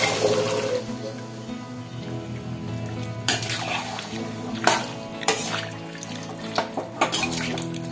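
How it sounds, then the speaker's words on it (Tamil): Boiled chickpeas with their cooking water are poured into a pan, liquid splashing and sloshing against the cookware with a few sharp clinks and knocks of utensils. "இதை அப்படியே தண்ணியோட ஊத்திக்கலாம்."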